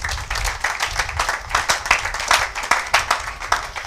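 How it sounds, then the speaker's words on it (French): A church congregation applauding for the glory of God: steady, moderately loud crowd clapping with uneven rhythm and frequent sharp individual claps, nearby and without talk. "Acclamons pour la gloire de notre Dieu"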